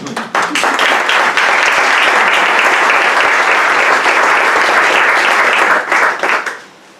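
Loud, sustained applause fills a hall as an audience welcomes an author at a book presentation. Dense, steady clapping holds for nearly seven seconds before tapering off at the end.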